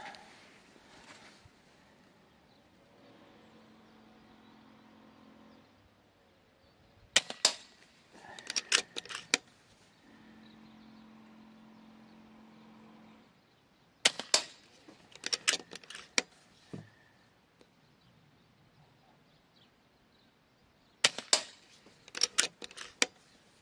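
Three bursts of diabolo pellet shots from an air rifle at roughly 16 J, each a sharp crack followed by quick clattering impacts, spaced several seconds apart with quiet mechanical handling between.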